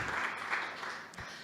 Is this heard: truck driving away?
no